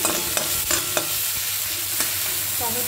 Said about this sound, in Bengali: ডালের ফোড়ন, এবারে ডালের ফোড়ন দেবো